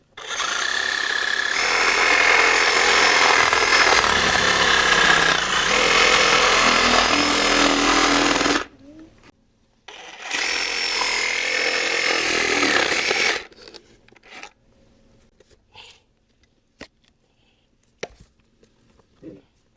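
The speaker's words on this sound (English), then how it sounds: "Now we're gonna use the Sawzall to get the coconut meat out." A Sawzall reciprocating saw buzzes loudly through a coconut in two long bursts separated by a short pause, followed by quieter scraping and tapping sounds.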